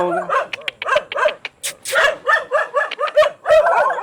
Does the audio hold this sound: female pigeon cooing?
no